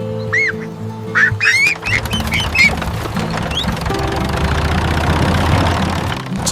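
Loud, close honking quacks from ducks or geese, several overlapping calls in quick bursts over a steady low engine-like hum, fading into continuous background noise.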